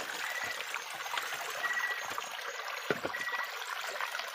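Shallow flowing stream where small shrimp live, a steady close trickle and babble of water running over rocks, continuous and fairly loud, with a brief splash near the middle.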